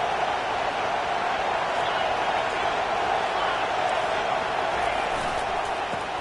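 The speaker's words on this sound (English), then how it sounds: "listen to this crowd noise. This stadium is vibrating." A packed college football stadium crowd roars in a dense, steady wash of noise that holds at full volume from start to finish.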